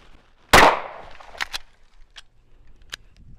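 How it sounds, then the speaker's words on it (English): A Glock 19 pistol fires one sharp, loud shot with a short decaying tail, followed by a few faint clicks and small handling noises. "Let me run a couple rounds through it."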